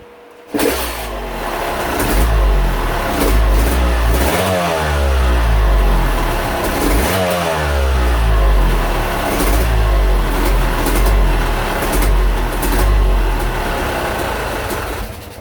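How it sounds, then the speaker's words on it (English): A Yamaha YZ250 or YZ125 two-stroke dirt bike with a Keihin carburetor kicks to life and runs loud and close, its engine blipping through several rising and falling revs over a rough idle. "So let's start the bike up, and we're going to check to see where it is at idle"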